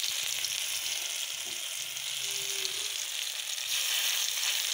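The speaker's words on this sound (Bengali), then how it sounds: "তো দেখো বড়াগুলোকে আমি ভেজে নেবো এরকম করে।" Sesame fritters frying in a pan of oil give a steady, close hiss and crackle that holds evenly throughout, with no talking.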